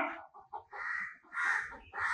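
Several crows caw in a morning yard, loud harsh calls repeating in quick bursts, close by and without talk.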